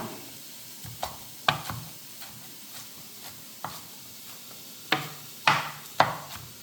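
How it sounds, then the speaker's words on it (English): Food sizzles steadily in a frying pan under a series of sharp knocks and scrapes as it is stirred and moved about, the impacts irregular and close, with no voices. "Who doesn't like the sound of the sizzle? I love the sound of the sizzle."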